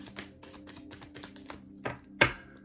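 Tarot cards are shuffled in quick, light riffling clicks close to the microphone, ending in a couple of sharper snaps as the deck is squared.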